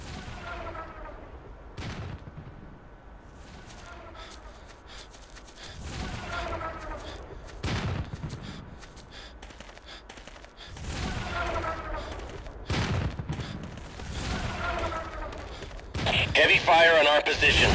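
Heavy gunfire in a Ghost Recon mod battle scene with German Bundeswehr troops in Ukraine: dense bursts of automatic fire and repeated loud shots in rolling waves, with voices heard among them.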